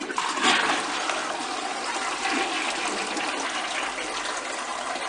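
A toilet flushing with rainwater collected from a rooftop terrace, a steady loud rush of water gushing through the bowl for several seconds, close by with no talk.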